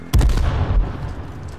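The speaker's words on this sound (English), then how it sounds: "I'm gonna blow him up with a crossbow" A burning Jeep blown up with a crossbow in H1Z1, one sudden loud explosive blast followed by a deep rumbling decay.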